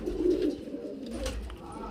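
Highflyer pigeons, good-quality birds kept for flying, coo softly and low, a faint brief murmur with no voices over it.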